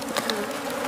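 Dense, steady buzzing of a swarm of bees around a wild hive in hot desert conditions, close and continuous with a few louder passes of individual bees near the listener.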